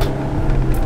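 A Honda S2000 engine pulls hard in third gear, a loud, continuous low roar filling the short stretch close to the microphone with no pause.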